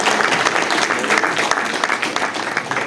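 An audience applauds a facility, steady dense clapping held at an even, loud level for about three seconds with no voices over it.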